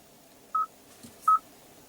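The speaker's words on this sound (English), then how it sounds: "you have an integrated dial pad" Two short, separate dial-pad beeps from the integrated phone keypad on a 2016 Kia Sorento infotainment screen, clean and fairly quiet against a low background hum.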